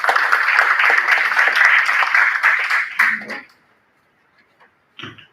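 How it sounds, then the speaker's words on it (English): Audience clapping in a round of applause welcoming a speaker at an international space-law conference, steady and full for about three seconds, then trailing off into quiet with a few scattered claps at the end. "Welcome him with a huge round of applause."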